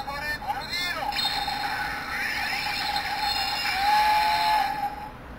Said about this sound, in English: Travel On is basically a train that could transform into a robot that Magi used.